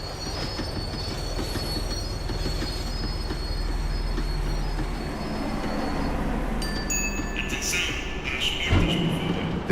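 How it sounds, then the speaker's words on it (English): A tram slowing down in the video game Max Payne 3: a steady rolling rumble with high, sustained wheel squeals, then sharper metallic screeches and a clunk near the end as it brakes, heard close from on board. "The tram was slowing down, and I'd only just gotten on board."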